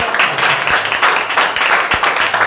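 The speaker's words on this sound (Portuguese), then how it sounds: "Você pode celebrar a Deus com as suas palmas" A church congregation breaks into dense, continuous applause, many hands clapping at once, loud and close with a few sharper claps standing out.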